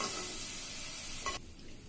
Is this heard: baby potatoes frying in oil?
yes